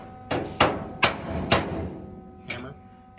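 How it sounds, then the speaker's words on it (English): Sharp metallic hammer blows strike a part on a 1941 Willys, five distinct hits, four in quick succession and one after a pause, close and ringing slightly. "Hammer."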